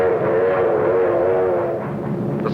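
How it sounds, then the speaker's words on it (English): Freight trains move along a wartime rail line in 1944, a continuous loud rumble with a drawn-out whistle-like tone running through it, heard steadily throughout. "Trains were assembled on the spot, loaded with freight and sped forward."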